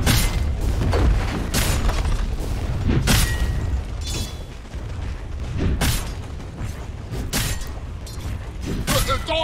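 In Dota 2, the Dire top tower comes under attack with a loud, dense stream of heavy booms and impact hits recurring every second or two over continuous combat noise.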